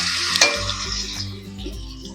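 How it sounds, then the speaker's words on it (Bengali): White cumin seeds tempering in hot oil crackle and sizzle in a steady hiss, with a sharp pop near the start and a low hum from the stove underneath. "সাদা জিরে ফোড়ন দিয়েছি ফোড়নটা সুন্দর লাল হয়ে যাবে গন্ধ বেরাবে"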